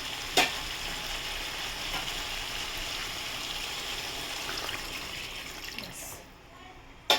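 Water poured into a pan of sizzling chicken curry brings a steady frying hiss that runs evenly for several seconds, with a sharp clatter near the start and another at the very end.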